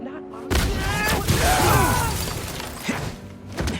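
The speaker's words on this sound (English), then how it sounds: "This glass looks pretty breakable." Glass shattering in the Spider-Man 2 video game during an aggressive fight scene: a sudden loud crash followed by ringing, scattering debris amid dense game sound effects.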